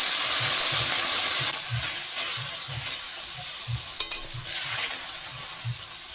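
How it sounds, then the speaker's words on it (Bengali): Spice paste of ground cumin and chilli fries in a pan with a little water, making a bright continuous sizzle beneath rhythmic, evenly spaced spatula strokes and a pair of sharper clinks; nobody talks. "এবার ভালো করে মশলাটাকে কষিয়ে নিতে হবে"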